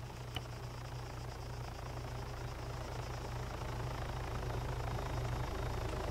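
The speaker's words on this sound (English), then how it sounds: "That helicopter scared me." A helicopter's steady rotor drone in the video game Arma 3 hums throughout as it flies overhead, low and constant with a whining mechanical tone, holding close and loud with no voices.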